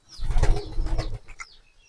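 Close, soft pigeon sounds with a low fluttering burst, like wings flapping, followed by a few quieter rustles.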